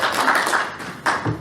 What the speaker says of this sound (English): Hey, you can clap.